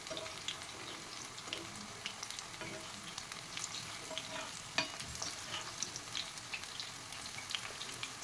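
Raw plantain slices frying in oil on a tawa, a quiet continuous sizzle with scattered small pops and crackles and an occasional clink, no voices.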